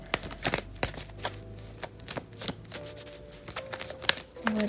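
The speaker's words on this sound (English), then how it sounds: "Me trying to not shuffle so loudly in y'all ear." A deck of cards is shuffled close up with a series of crisp riffles and snaps in an irregular rhythm, fairly quiet and with no talk over it.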